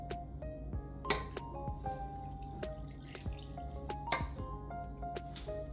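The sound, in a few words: cup of water poured into cake mix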